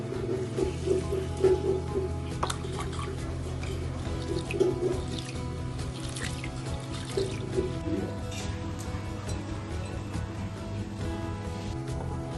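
Chana dal is washed in water in a bowl, a continuous close splashing and swirling with drips and occasional soft knocks against the bowl, steady throughout with no voices.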